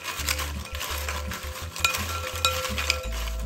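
Crispy fried potato chips tossed with seasoning in a bowl produce a dry rustling and scraping at a steady pace, close and fairly loud, with a few sharp clinks and no talking.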